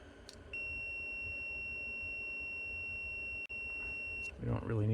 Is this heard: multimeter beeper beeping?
yes